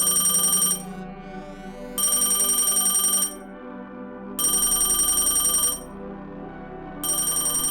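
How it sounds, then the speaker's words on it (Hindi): An old rotary telephone on a desk rings in loud, harsh bursts of bell clatter, each lasting about a second, separated by short silent gaps in a regular repeating pattern. "अचानक मेरी मेज पर रखे पुराने रोटरी फोन की घंटी बजी"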